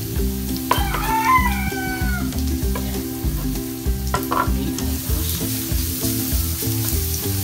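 Garlic and ginger sautéing in a pan while being stirred continuously, a steady sizzle with utensil scrapes, partly covered by background music and a rooster crowing nearby.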